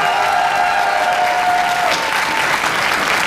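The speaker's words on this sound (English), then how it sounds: "Let's give that last group a round of applause" A crowd applauds a group at a black belt graduation ceremony, steady dense clapping filling the whole stretch without a break, with a faint tone fading out partway through.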